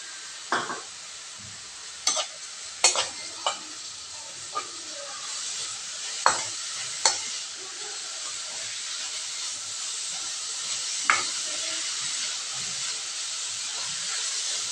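Grated carrot and tomato pieces fry on a medium flame for an avocado sandwich filling, giving a steady close hiss with scattered sharp clicks and scrapes from stirring and no talking.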